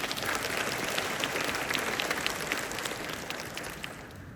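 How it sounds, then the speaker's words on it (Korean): An audience at a town hall meeting claps steadily in a broad, dense wash of applause that carries throughout and eases slightly toward the end. "여러분 큰 박수 부탁드리겠습니다."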